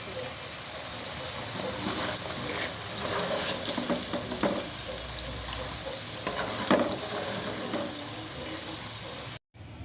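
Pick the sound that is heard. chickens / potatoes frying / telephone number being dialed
potatoes frying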